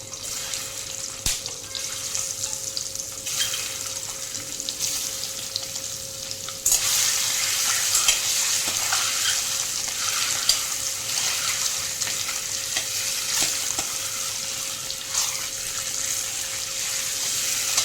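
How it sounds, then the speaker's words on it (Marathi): Eggs fry in oil in a kadhai for egg biryani, a steady close hiss and crackle that grows louder partway through and keeps going without talk. "अंडे फ्राय झालेले आहे."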